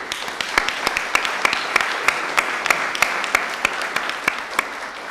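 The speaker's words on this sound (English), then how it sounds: "we owe ourselves a great round of applause" Audience applause at a Rust programming conference talk in Rome, a steady crowd of clapping hands with sharp individual claps standing out, sustained for several seconds in a hall.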